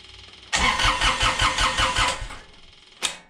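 A Kubota D902 three-cylinder diesel on a BX tractor cranks over with a fast, rhythmic chugging for about two seconds, then stops, followed by a short sharp clunk, loud and close with no talk.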